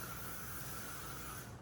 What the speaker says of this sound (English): and then I'm gonna spray